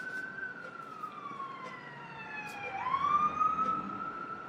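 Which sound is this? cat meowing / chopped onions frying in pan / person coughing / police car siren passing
police car siren passing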